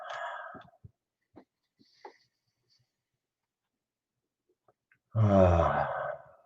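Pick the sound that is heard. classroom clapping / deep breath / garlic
deep breath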